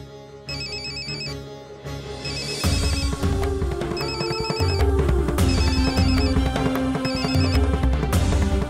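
A phone rings for an outgoing call in a Bengali TV drama: a steady electronic ringtone melody repeats in regular bursts over a loud musical background, with no talking.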